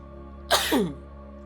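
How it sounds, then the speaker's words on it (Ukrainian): One sharp, close sneeze bursts out with a quick explosive onset and a short voiced tail, over a quiet steady background hum. "О, це я чихнув."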